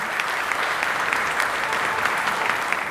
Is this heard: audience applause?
yes